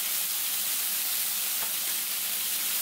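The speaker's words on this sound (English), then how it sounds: "we're going to lightly brown the sausage and the pepper until it's tender" Sausage and pepper lightly browning in a hot pan give off a steady, even sizzle and hiss, close and constant with no talking.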